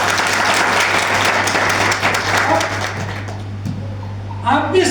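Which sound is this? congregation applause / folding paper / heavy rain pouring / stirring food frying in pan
congregation applause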